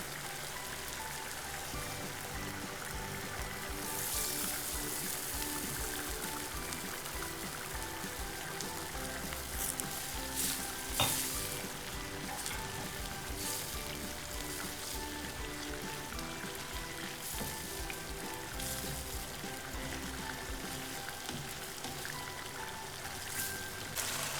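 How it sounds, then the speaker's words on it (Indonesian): Chicken liver and gizzard simmer and fry in a coconut milk sambal with petai, Padang style, giving a steady, close bubbling sizzle like dense rain that runs unbroken throughout. "Lalu kita masukkan juga anti ampelanya."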